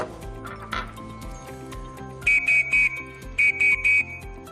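A Scout whistle blows a rapid signal of short triple blasts, two quick groups of three, loud and close over background music.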